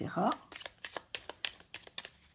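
A deck of cards is riffled and shuffled in quick bursts, starting with a dense flutter of cards and settling into a rhythmic series of sharp, close snaps and slaps.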